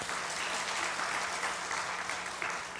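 A church congregation applauds during a Korean sermon, a dense, steady wash of many hands clapping that fills the whole stretch at an even, moderately loud level with no voices on top.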